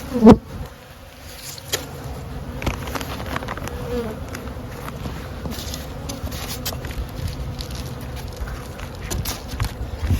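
Honey bees buzzing in an opened hive, a dense steady drone close by, with a few sharp knocks and handling sounds over it.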